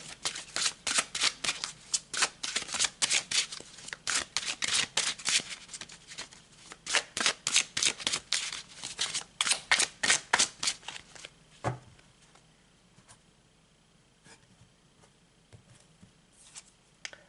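Tarot cards being shuffled by hand close up: rapid bursts of riffling and slapping in a quick, uneven rhythm for about ten seconds, then a few softer card sounds, with no voices.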